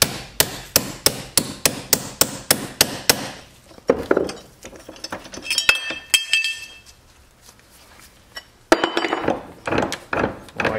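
A hammer strikes a socket to drive the wrist pin out of a piston from a four-mix engine: about a dozen quick, evenly spaced metallic blows, then scattered knocks and clinks.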